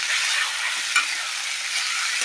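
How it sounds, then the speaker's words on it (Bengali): Potato pieces fry with onions in a pan while being stirred, giving a bright, steady hiss with soft scraping strokes and a small clink near the middle, close and alone. "পেঁয়াজের সাথে আলুটাও হালকা ভাজা হয়ে যাবে"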